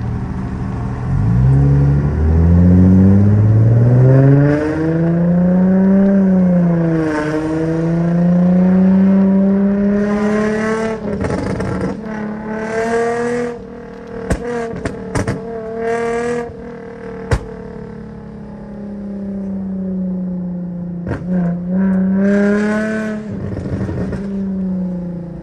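An Infiniti G35 engine revs loudly, its pitch rising and falling through repeated throttle blips as the car drives, with a steady rumbling drone between the bursts and no talking.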